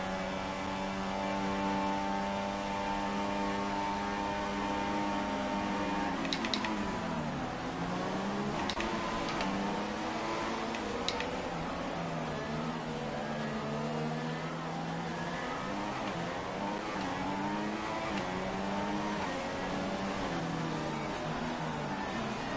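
Simulated Formula 1 race car engine in the F1 2016 game, held at a steady high drone through a formation lap in China, with harmonic pitch sweeps as it accelerates and shifts, continuous and fairly loud throughout.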